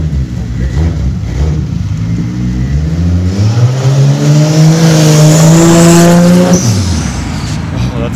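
A Toyota Supra at a Toronto car meet revs hard nearby, its engine note climbing through a loud rising wail and then dropping sharply, while voices from the crowd sound under the noise.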